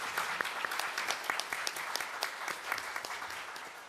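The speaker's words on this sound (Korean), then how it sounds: "이분들에게 큰 박수 부탁드립니다" An audience applauding at the close of an academic constitutional-reform conference session, many hands clapping in a dense, steady, fairly faint wash with crisp individual claps standing out, no speech.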